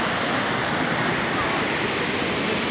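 Dense, constant roar of rushing water filling the space at close range, a steady wash of noise with no breaks or changes.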